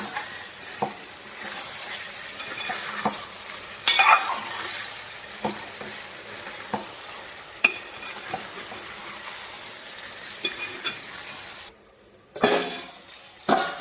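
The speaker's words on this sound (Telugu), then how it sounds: "ఒకసారి మొత్తం ఇలా కలిపేస్తున్నాను" Utensil scraping and stirring in a pan as chili powder is mixed into chicken fenugreek curry, over a low sizzle, with periodic clinks of metal, close and steady, no voices.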